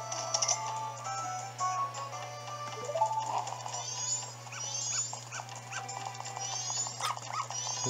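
A dog in the Zelda Majora's Mask video game barks in a quick, repeated series over a steady low game hum, with layered musical tones and effects mixed in.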